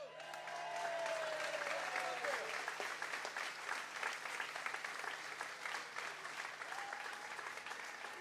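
A large outdoor crowd at the annual Fancy Farm political picnic in Kentucky applauds steadily for several seconds, dense clapping with a few whoops, loud and continuous.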